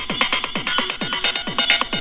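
Techno delay send effect soloed, a dark hypnotic stream of rapid repeating pulses with sweeping, swooping echoes, dense and continuous, with no voices.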